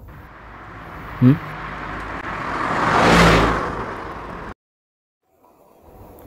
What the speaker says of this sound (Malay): Lepas tu kamu kena langgar kereta tapi kamu jadi kuat.